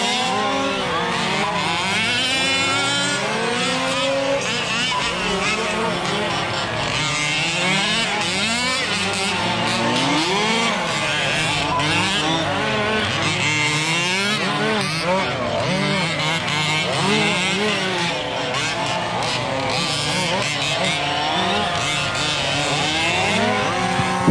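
Open-class radio-controlled cars, including MCD, Losi and Baja models, race a qualifier at Wagner Park, their small engines whining and revving continuously in rising and falling sweeps as several cars pass close and loud.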